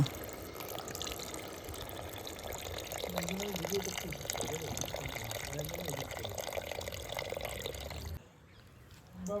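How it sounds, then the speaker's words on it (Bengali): Water is poured into a simmering Bengali tomato katla fish curry, a steady liquid splashing and gurgling that runs for several seconds before stopping abruptly, with a voice talking over it. "ঝোলের জন্য পরিমাণ মতো জল দিয়ে দেব"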